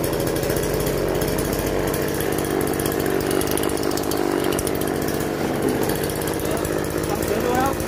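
A small pull-start engine, switched on and then cord-pulled, catches and runs with a steady, loud, close buzzing drone that holds without a break, with a voice speaking over it.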